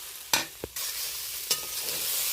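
Chana dal and soybean curry being sautéed in a pan, with a steady sizzle and a few sharp scraping strokes of the spatula against the pan, close and moderately loud, no talking.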